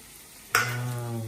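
A sudden sizzle as garlic and onion hit hot oil in a pan for pav bhaji, a sharp close burst that settles into a steady frying hiss with a faint hum beneath.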